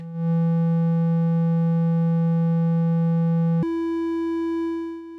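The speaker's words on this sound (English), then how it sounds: "have it control the pitch of the sine wave" Synth sine wave with its pitch played from a Mini Brute keyboard, a pure steady tone holding one low note, then jumping abruptly to a higher pitch and fading out.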